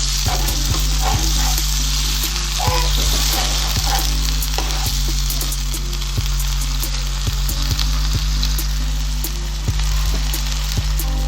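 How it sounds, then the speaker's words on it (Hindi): Cut potatoes frying in hot oil in a pan for a Spanish omelette (tortilla de patatas), a steady dense sizzle running throughout with a constant low hum beneath and occasional light clicks. "तो 1 मिनट तक हम आलू को इस तरह से फ्राई करते रहेंगे।"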